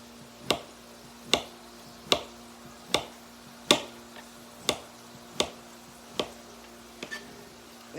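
Zucchini and yellow squash being sliced on a cutting board, about ten evenly paced knife strokes landing as crisp, close thuds over a low steady hum.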